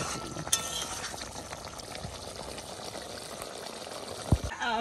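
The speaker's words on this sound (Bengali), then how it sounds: "তরকারির রং চেঞ্জ হয়ে গেছে, এখন ফুটে উঠছে" An old-style parshe fish curry with mustard bubbles and simmers in a pan, making a soft continuous gurgle. A few sharper knocks and clinks occur near the start and end.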